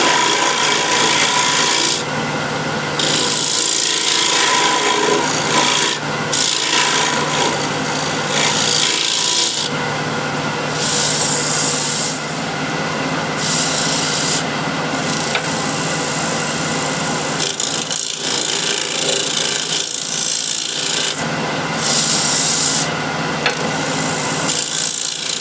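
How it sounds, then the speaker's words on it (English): A scraper finishes the bottom of a wooden bowl on a lathe, giving a steady, loud rasping rub over the hum of the spinning machine, continuous with brief pauses between passes. "Scraper, finish the bottom."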